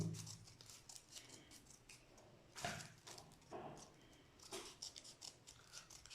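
Scissors snipping paper for a kirigami craft, a series of quiet close crisp cuts with one louder snip near the middle, recorded in a hushed room with no talking.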